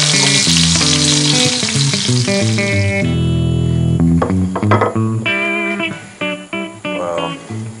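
A ribeye steak sears in a Stargazer cast iron skillet with a loud, steady sizzle that fades after about three seconds, overlaid by tonal background music.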